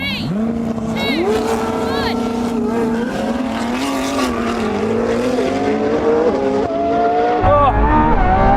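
Koenigsegg Jesko, Lamborghini Revuelto and 1,000hp BMW M3 drag racing, loud engines roaring and rising through the revs with gear shifts, wind noise and voices talking over it.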